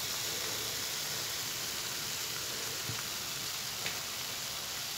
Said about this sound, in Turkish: Soğanlar da tavuk etleriyle beraber biraz kavrulsun.